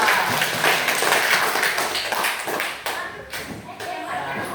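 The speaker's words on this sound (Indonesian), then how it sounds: "Tepuk tangan buat kelompok." A classroom claps for a student group after its presentation, a quick burst of many hands close by that thins out toward the end, with some voices mixed in.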